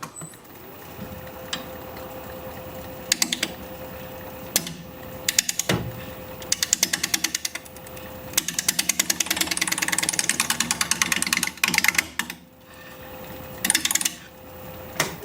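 A wood lathe spins a piece of cracked wood while a gouge cuts it, giving a rapid rhythmic knocking chatter in repeated bursts over a steady motor hum, close and moderately loud.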